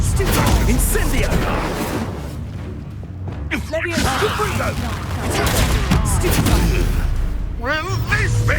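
A fire spell cast in Hogwarts Legacy during a duel against a poacher, bursting and whooshing loudly through dense combat noise while voices shout over it.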